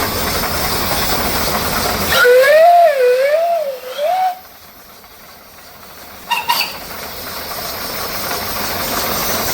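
A steam engine whistle at the Sycamore Steam Show gives one loud, wavering blast of about two seconds over a steady hiss, then a short second toot, with engine noise continuing behind.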